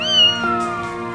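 A single clear, loud cat meow, drawn out and slightly falling in pitch, close by with no other sounds around it.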